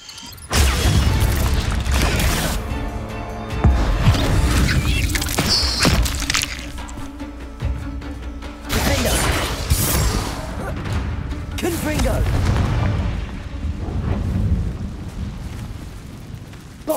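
Bombarda explosion spells from the Hogwarts Legacy video game, booming blasts cast repeatedly in close succession, loud and rumbling amid layered combat effects and a few other spell sounds.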